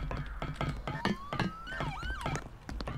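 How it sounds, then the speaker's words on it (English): Police sirens wail in a North Yorkshire pursuit, the rising and falling tones sweeping continuously and fairly loud over three seconds, with several overlapping siren voices. "because all I can hear is sirens"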